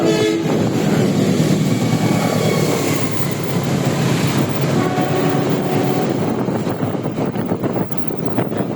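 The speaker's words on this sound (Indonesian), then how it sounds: "Oh, itu ada kereta lewat ya." A train rolls past alongside a foothill road in Indonesia, loud and close, with a sustained horn blast and rhythmic clacking wagons growing more pronounced toward the end.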